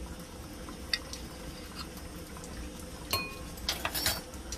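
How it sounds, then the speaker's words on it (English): A teaspoon scooping baking powder into a mug, quiet metallic clinks and taps against ceramic, a few sharp knocks near the end over a low room hush. "I'm gonna put 2 teaspoons of baking powder in"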